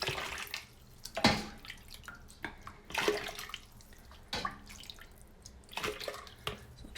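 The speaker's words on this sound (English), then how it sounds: "I'm just gonna put some in a pitcher so that it's easier to pour into the ice cube tray" Chicken stock splashes and trickles into a pitcher in several uneven bursts, close by, with short pauses between pours and no talking.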